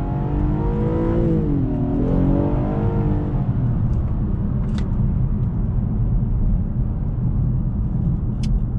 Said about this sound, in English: Just sounds so good with that V6